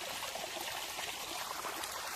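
Floodwater drains out of a waterlogged crop field after excessive rain, a steady hissing, gurgling flow close by with no voices.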